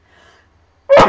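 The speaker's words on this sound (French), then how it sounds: "Petit éternuement." A single short, small sneeze bursts out loud and close after a faint breathy lead-in, ending the clip abruptly.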